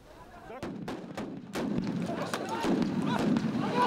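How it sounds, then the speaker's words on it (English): Police fire stun grenades and rubber bullets at protesters blocking major roads during a shutdown in the Cape Flats: several sharp, loud bangs at irregular intervals ring out over a steady crowd din with voices. "They were met with stun grenades, rubber bullets, tear gas and water cannon fired by the police to disperse the crowds"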